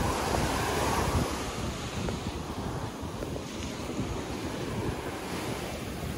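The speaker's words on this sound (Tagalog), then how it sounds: "Medyo maalon ngayon, pero compared kahapon, mas maalon talaga kahapon." Rough sea waves breaking at White Beach in Dasol, Pangasinan, a continuous loud roar of surf mixed with heavy wind buffeting the microphone, no voices.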